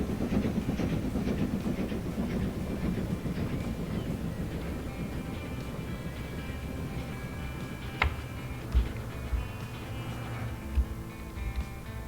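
The Adams Radial commuter train runs in Transport Fever, a continuous rumbling rail roll with clickety-clack beats and a few sharper clanks near the end.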